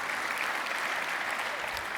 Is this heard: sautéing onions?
no